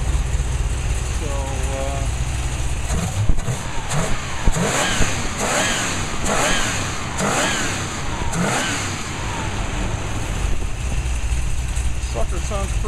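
A 1969 Corvette engine fitted with new Profiler heads and intake revs repeatedly, its loud rumbling blips rising and falling over a steady idle, with a person talking over the engine.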